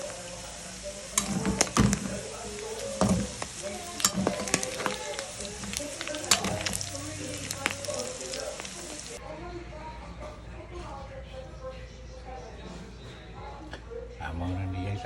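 Pork adobo frying in a pan until crispy, a steady sizzle with stirring clatter underneath a person talking, the sizzle softening partway through.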